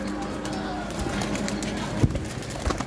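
Pigeons kept by a pigeon club make soft, low cooing under faint background noise, with a couple of brief thumps that could be wing flaps.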